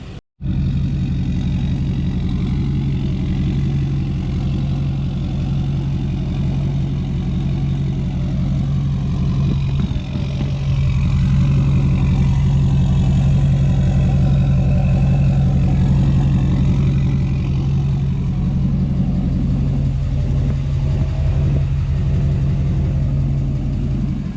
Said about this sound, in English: So obviously you guys know what a straight pipe Duramax sounds like.